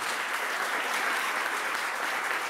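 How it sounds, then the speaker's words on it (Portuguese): A church congregation applauds during a worship service, a dense, even wash of many hands clapping together at a steady level throughout, with no talking. "Vamos dar uma salva de palmas ao Senhor Jesus."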